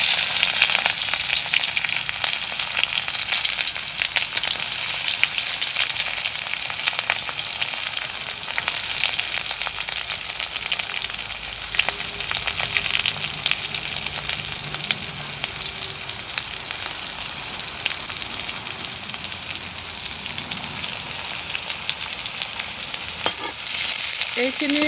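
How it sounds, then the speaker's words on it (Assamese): Chopped onions and chillies frying in hot oil in a pan, cooked for a pork dish, give off a steady, close, continuous sizzle and crackle with occasional stirring scrapes and no talking. "ইয়াতে মই কাটি লোৱা পিঁয়াজ আৰু জলকীয়াখিনি দি দিম।"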